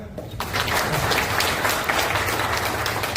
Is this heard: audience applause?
yes